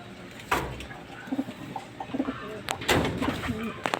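A racing pigeon coos softly and repeatedly at its loft after a 227 km one-lap derby race in Cantilan, Agusan del Sur, over a noisy outdoor background with scattered clatter.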